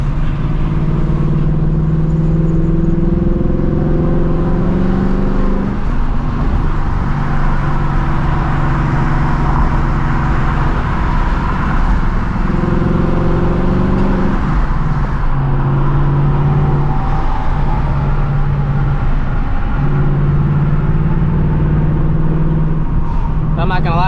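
A car's engine drives along at moderate revs, shifting around 3,000 to 4,000 rpm, with a steady hum that rises and drops between gear changes while someone talks over it throughout.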